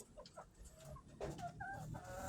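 Chickens clucking in a fenced backyard pen, short soft clucks and low chatter a little way off, quiet and unaccompanied by speech.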